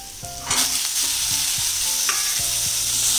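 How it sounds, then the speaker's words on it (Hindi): Spices fry in a hot pan as peas are tipped in with a sudden burst of sizzling, followed by steady frying and repeated scraping strokes of a spoon stirring the mix. "इन मसालों को हल्का सा भून लेंगे हम लोग। और अब ऐड कर देंगे हम लोग मटर"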